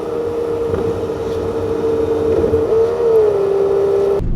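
Car driving on the road gives a steady engine drone with a constant hum of road noise from inside the cabin, loud and unbroken, with a slight pitch shift near the end.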